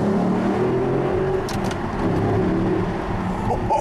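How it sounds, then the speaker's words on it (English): An Audi R8 engine hums and rumbles steadily from inside the moving car, with road noise and a brief rise in revs, no voices. "Gonna put the window down for you guys to hear the sound of the R8 as we go under."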